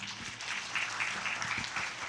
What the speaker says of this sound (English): Big applause to Mr. Thomas.